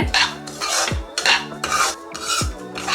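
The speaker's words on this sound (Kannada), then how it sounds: "ಲೋ ಫ್ಲೇಮಲ್ಲೇ ಇದನ್ನು ಇದೇ ರೀತಿ ಹುರ್ಕೋಬೇಕು" Repeated scraping of a spatula through rava (semolina) roasting in a pan on low flame, a rhythmic rasp about every half second with metallic clinks, close and loud.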